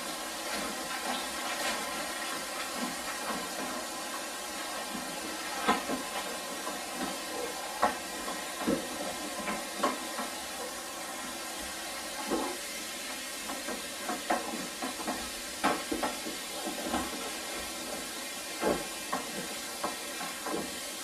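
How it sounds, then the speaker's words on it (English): Home-brew beer wort is mixed in a fermenter, a long stretch of sloshing liquid with a hissy wash and repeated soft knocks and swirls at an uneven pace, no one speaking. "Give it a good mix."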